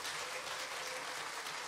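Faint, steady clapping from a concert audience at a matinee piano recital in a small art hall, a brief dense wash of hands with no other sound.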